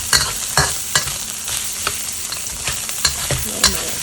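Sticky rice with dried shrimp frying in rendered bacon fat, a steady crackling sizzle broken by regular scraping stirs of the spatula against the pan, close and alone.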